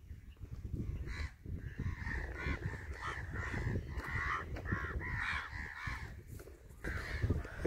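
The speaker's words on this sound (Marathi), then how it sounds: "इथे हे कावळे बघू शकता तुम्ही मित्रांनो" A flock of crows near a seaside temple by a busy fishing spot caws again and again in harsh, rhythmic bursts, loud and close over a rumbling outdoor background.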